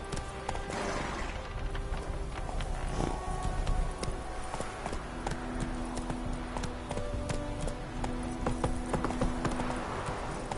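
Horse hooves clip-clopping at a quick gallop in the video game Witcher 3, a steady drumming rhythm running the whole time over faint in-game background sounds.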